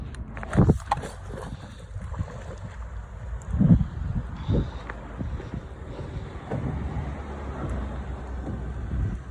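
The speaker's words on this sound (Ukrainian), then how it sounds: "Тепер включаємо цей насос и включаємо цей" A water pump switched on to supply a cheap home water system as a borehole is drilled through clay, giving a steady low hum throughout with a few louder knocks and clunks early on, fairly close.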